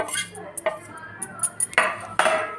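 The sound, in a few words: stirring spices into aloo chaat in a bowl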